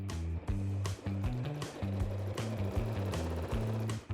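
A sewing machine stitches free-motion wavy lines on a quilt, its needle running in steady, loud bursts of rapid mechanical chatter with brief pauses between runs.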